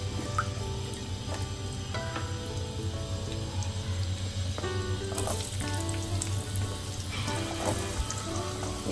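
Cumin seeds and onion frying in hot oil for a capsicum curry, a steady close sizzle with crackles and stirring sounds, no voices.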